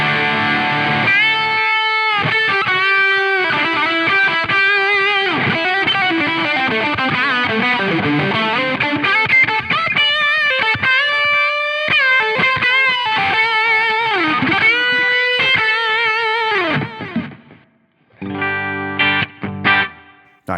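Heavily distorted electric guitar from a Line 6 Helix modeling a Soldano SLO-100 amp plays a loud, sustained lead line with bent and gliding notes, then ends on a few short, punchy chord stabs after a brief drop-out.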